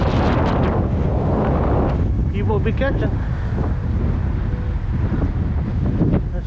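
Strong gusty wind at Spoon Lake during a 32 mph gust buffets the microphone with a loud, constant rumble, and someone speaks briefly over the roar.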